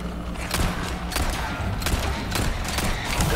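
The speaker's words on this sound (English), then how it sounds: "I'm shooting the fucking parasite" Repeated gunfire in Resident Evil 4 Remake as a parasite is shot, sharp bursts at uneven intervals over a steady game backdrop, with no talk.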